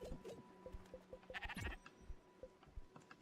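Sheep in the Spiritfarer game bleat in a steady series of short, nasal calls, fairly close and clear, with soft game ambience and clicks around them and no talking.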